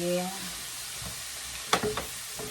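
Frozen vegetables stir frying in a pan give a close, steady sizzle, broken by a few sharper clatters of stirring near the end.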